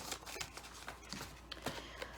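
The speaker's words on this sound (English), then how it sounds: "you'll need to kind of shuffle them around like playing cards" Paper playing cards being shuffled by hand, a quiet run of soft riffling flicks and light slaps repeating unevenly, close by with no voices.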